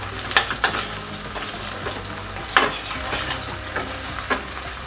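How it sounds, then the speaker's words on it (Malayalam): Brinjal, snake gourd and green chili with salt stirred in a pan, crackling sizzle under repeated scraping strokes of a spatula at an uneven rhythm, no voices. "ഇനി നമുക്കിതൊന്ന് ഇളക്കാം"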